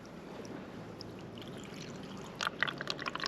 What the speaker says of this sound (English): just slowly pouring the water